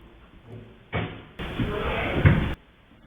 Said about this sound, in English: trying to kick a door